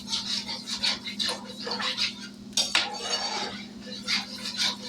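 A spatula scrapes browned hamburger-patty drippings off the bottom of a skillet in a series of rough, close scraping strokes with occasional metallic clinks, loud and near, with no voice.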